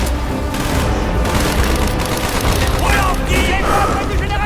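Mortar fire and gunfire in the video game Call of Duty: Black Ops, a dense, continuous barrage of booms and rapid shots with voices shouting over the din.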